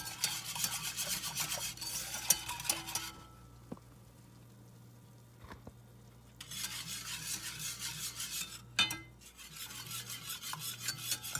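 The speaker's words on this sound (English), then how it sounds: "And now we're just going to give that a good mix" A spoon stirring a milk and flour mixture in a cooking pot, raspy scraping strokes in two longer bursts separated by a quiet gap with a single clink, close and faint over a low steady hum.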